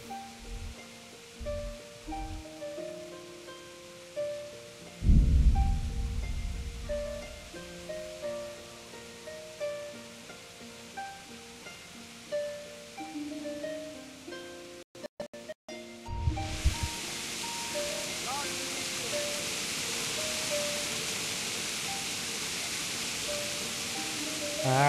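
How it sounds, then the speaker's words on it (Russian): Soft music plays at first, then loud rain in the video game Kingdom Come: Deliverance hisses in a steady, dense wash that continues to the end. "Не люблю дождь. Он такой шумный."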